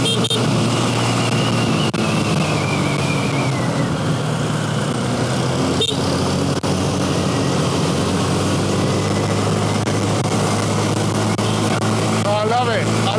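Scooter engine held at full throttle on a road ride in Bali, a steady loud drone with wind rush running throughout while someone talks over it.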